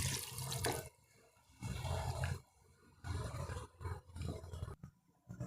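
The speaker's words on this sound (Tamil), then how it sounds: "இப்போ நாம் தண்ணி சேர்த்துக்கலாம்." Water poured into a pan of simmering potato coconut gravy makes a series of loud gushing bursts, broken by short pauses, close by and with no talk over it.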